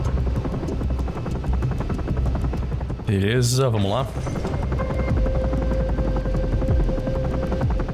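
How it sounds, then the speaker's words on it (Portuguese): A helicopter lands in the Ravenfield shooter game, its steady rotor thrum and buzzing engine running loud and continuous throughout, while someone speaks briefly over it midway. "Vou esperar o helicóptero pousar aqui."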